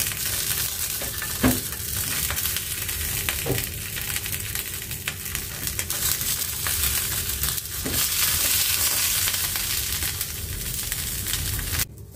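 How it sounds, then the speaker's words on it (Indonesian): Eggplant brushed with oil on a nonstick pan gives a continuous sizzle and crackle, with a few soft knocks and shifts as it cooks, and no voices. "Saya olesin dengan minyak. Baru kita bakar terongnya."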